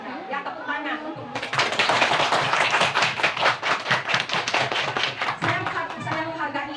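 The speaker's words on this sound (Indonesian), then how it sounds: "Ya tepuk tangan untuk" A second-grade classroom of children claps together in a dense, rhythmic burst of applause lasting several seconds, close and loud, with a voice faintly audible before it starts.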